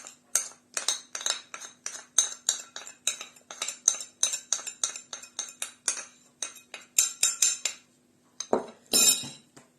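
Rapid, rhythmic clinking of a whisk against a bowl, beating an apple tart filling, brisk strokes repeating steadily, then a brief scraping pause near the end.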